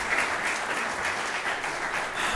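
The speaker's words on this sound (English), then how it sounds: "I want to give her a round of applause" A short burst of steady audience applause at a live Principles First evening event in Chicago, an even, moderately distant wash of many hands clapping.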